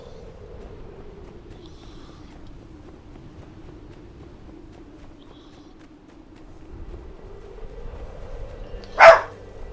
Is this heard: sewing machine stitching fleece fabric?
no